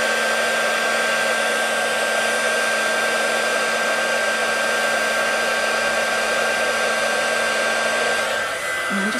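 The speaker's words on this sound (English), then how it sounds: "I'll just put some heat from the underside" A heat tool blows hot air steadily across the underside of an embossed cat birthday card, a loud continuous whooshing hum with a faint whine that holds for about nine seconds before a slight shift at the end.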